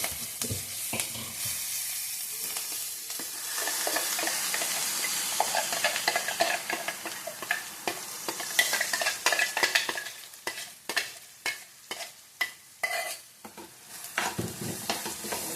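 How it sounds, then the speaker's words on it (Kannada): Mustard seeds sizzle in hot oil, then crackle and pop in quick, sharp bursts that grow more scattered toward the end. "ನೋಡಿ ಸಾಸಿವೆ ಸಿಡಿತಾ ಇದೆ"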